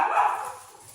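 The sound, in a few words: dogs barking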